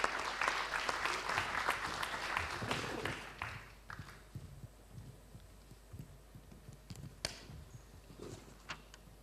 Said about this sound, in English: Big round of applause because they are nervous